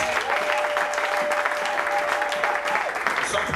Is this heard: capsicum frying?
no